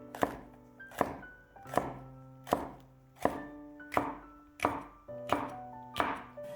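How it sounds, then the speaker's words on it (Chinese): A knife chops a spiral pepper into small rings on a cutting board, eight or nine crisp, evenly spaced cuts at a steady rhythm with no talking. "一个螺旋椒给它切成小圈"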